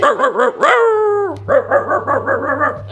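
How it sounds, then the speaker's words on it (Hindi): Several dogs barking close by in quick repeated bursts, with one drawn-out whining yelp breaking in partway through and a low steady hum underneath. "कुत्ते भौंक रहे"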